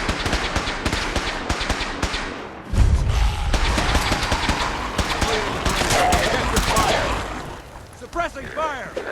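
Gunfire in the game Fallout 4, a hybrid melee run, with bursts of rapid shots and impacts crackling through a busy mix while someone talks over the action.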